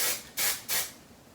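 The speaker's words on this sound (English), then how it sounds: "spray it again with some hairspray." Hairspray sprayed onto curled hair, three short close hissing bursts in quick succession, then quiet.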